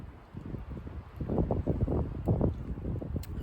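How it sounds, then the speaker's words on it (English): Strong gusty wind buffets the microphone outdoors near Minnow Lake in Jasper National Park, a low rumbling roar that swells and surges in uneven bursts with no talking. "That wind doesn't look like it's gonna let up tonight."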